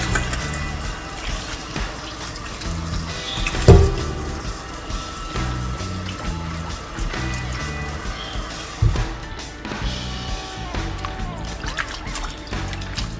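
Tap water runs steadily while chicken feet and necks are rinsed for a curry, a soft continuous splashing with a couple of brief louder knocks, under faint background sound.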